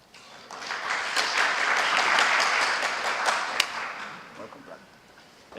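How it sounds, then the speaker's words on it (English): A sales conference crowd claps steadily in a loud, sustained wash of applause that swells and then tapers off, with a few sharper individual claps standing out. "loudest round of applause for our entire lives"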